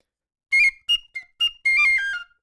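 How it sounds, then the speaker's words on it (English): A loud, shrill whistle blown in five quick blasts, the last one held longer, close and with no talk over it. "The whistle can never be too loud."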